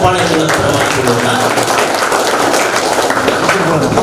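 An audience at an annual scholarship distribution ceremony claps steadily to welcome a college principal onto the stage, a dense, even patter of many hands sustained throughout at moderate loudness.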